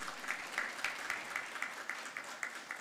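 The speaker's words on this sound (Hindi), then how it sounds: "जोरदार तालियां आपकी तरफ से।" An audience at a solar energy policy launch ceremony with the chief minister claps together, a fairly rhythmic, moderately loud applause with regular accented beats and no speech on top.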